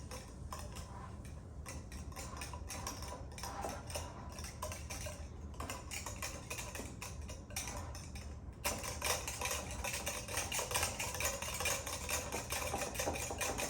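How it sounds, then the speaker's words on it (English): A small whisk stirs lime juice for a salsa dressing, producing a steady, rapid metallic clatter against the bowl that grows louder and busier partway through. "now we take a little whisk."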